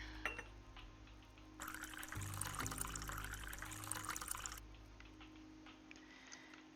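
Water pours steadily for about three seconds in the video game Zipps Cafe, a close, bright splashing stream that rises over quiet background music and then stops.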